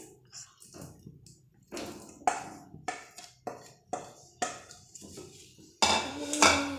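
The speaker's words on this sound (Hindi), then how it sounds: "अब इसको हम अच्छी तरह मिलाएंगे।" A spoon repeatedly scrapes and clinks against a pan as fried potatoes are stirred into a spicy hotel-style dum aloo curry gravy, with a steady series of sharp metallic knocks and a louder clatter at the end.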